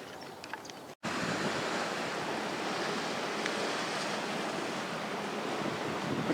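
Ocean waves at Little Corona Del Mar beach in Newport Beach, a steady, loud roar of surf mixed with wind buffeting the microphone, continuous after a brief cut near the start.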